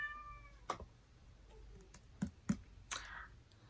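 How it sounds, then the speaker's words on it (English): A cat meows softly a couple of times in a quiet room, with a few light clicks and taps in between. "that's my cat"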